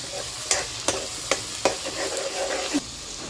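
Masala frying in a pan: a soft, steady sizzle broken by several sharp clinks and scrapes of a spoon stirring against the metal, close and fairly quiet.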